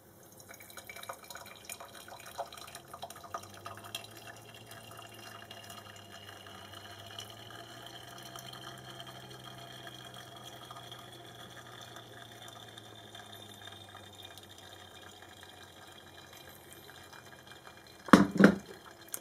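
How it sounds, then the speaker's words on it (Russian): Hot water gurgles and drips steadily through a metal Vietnamese phin coffee filter, a soft continuous trickle close by, ending with a few louder clinks near the end. "Мы слышим, как журчит водичка."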